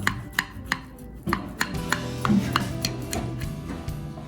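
Knife cutting baked apple crumble into pieces, a series of sharp close taps and crunches against a pan or board, evenly spaced about every third of a second, fairly quiet with no talk.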